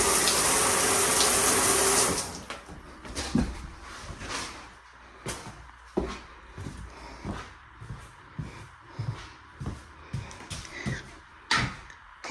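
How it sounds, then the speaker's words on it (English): Water runs from a shower upstairs in a house under plumbing inspection, heard indoors as a steady rush that then drops to a quieter flow broken by irregular knocks and thumps, with no voices. "Water's coming from the shower up there."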